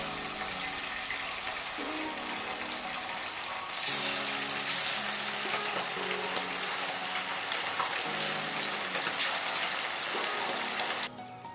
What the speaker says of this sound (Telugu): మనం ఇప్పుడు మీడియం ఫ్లేమ్లో పెట్టుకొని చికెన్ ముక్కలు వేసుకుందామండి.